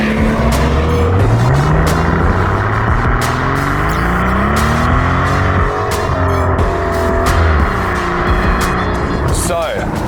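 A Mercedes-Benz S65 drives on the road, its engine note climbing through the gears in repeated rising sweeps, loud and close from inside the car, with someone talking over it.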